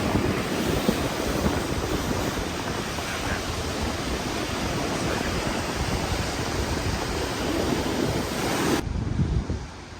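Big ocean waves roll and crash onto the shore at midday, a loud, continuous wash of surf mixed with gusty wind buffeting the microphone.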